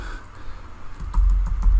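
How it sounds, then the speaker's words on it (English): Typing on a computer keyboard: a short burst of soft, quick key clicks close by, with a few heavier taps in the latter half. "let's type in this person's name"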